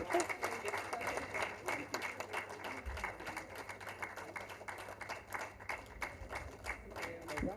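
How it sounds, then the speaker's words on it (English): A modest audience at the IWC WL Awards 2018 ceremony in Mumbai claps for an honoree, a sparse, uneven patter of individual hand claps lasting several seconds with a little voice beneath. "could you please applaud for him too?"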